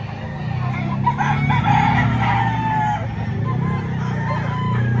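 Chickens and roosters crowd a poultry market in Lipa, Batangas, with loud overlapping clucks and drawn-out calls forming a dense, constant din close by.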